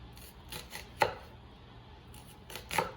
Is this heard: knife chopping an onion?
yes